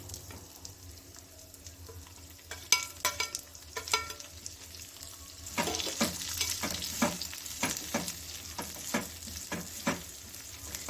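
Grated coconut is lightly roasted with spices in a pan. A soft sizzle runs under scraping stirs and sharp spoon taps against the pan, which grow busier and more rhythmic in the second half.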